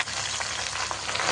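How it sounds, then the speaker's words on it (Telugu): Gongura leaves fry in hot oil for a pickle, giving a steady, close, dense sizzle with small crackles throughout and no talking. "అదే ఆయిల్లో ఈ గోంగూర గిట్ట వేసేసి వేపుకున్నాం"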